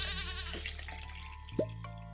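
A goat bleats once in a farm barn in Stardew Valley, a short bright cry rising out of steady game music and soft ambient sounds, with no talking over it.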